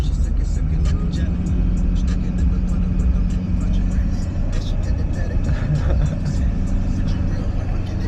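An LB7 Duramax diesel pickup truck accelerates steadily from inside the cab, a loud, continuous low engine drone building smoothly, with people talking over it.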